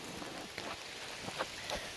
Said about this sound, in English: it's fucking pouring rain